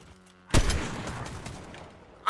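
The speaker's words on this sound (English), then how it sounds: "Oh, I got sniped!" A sniper rifle shot in the video game Fortnite, one sharp loud crack that rings out into a decaying tail, with a second abrupt hit at the very end.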